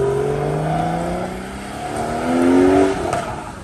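A car on a road near a cyclist, its engine rising and shifting in pitch as it drives past, loud and close with some wind and traffic noise around it.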